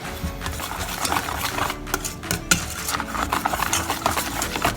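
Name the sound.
stirring Mountain Dew soda cupcake batter in a bowl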